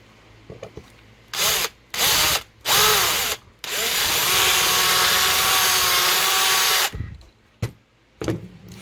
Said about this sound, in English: Gotta drill out a little bit more.